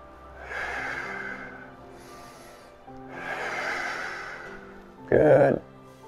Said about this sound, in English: Let's do 5 breaths here.